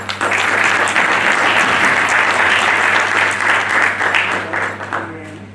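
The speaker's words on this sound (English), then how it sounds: "May I request all the members to please give them a big round of applause" Seminar audience at an annual function giving the speakers a big round of applause, loud sustained clapping that runs nearly the whole time before tapering off at the end.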